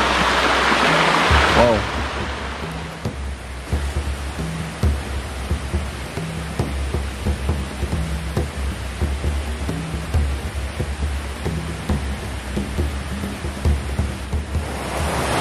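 A river runs along its bank with a constant rushing wash of water, joined by a muffled rhythmic thumping and a brief exclamation from a man.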